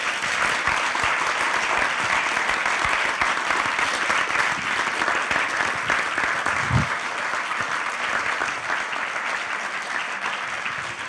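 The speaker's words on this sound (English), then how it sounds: "So can we give them a round of applause," A hall full of audience members applauds after a talk, with steady, dense clapping that holds at an even level for the whole stretch and has no voices over it.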